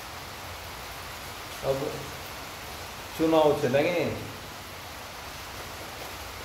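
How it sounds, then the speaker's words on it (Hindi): Heavy rain falls outside as a steady, even hiss throughout, with someone briefly speaking over it. "बारिश हो रही बाहर बहुत जोर"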